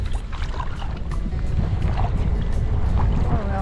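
Wind rushes past while paddling a boat on the Upper Neuse River, a loud continuous buffeting with gusts and soft water sounds throughout.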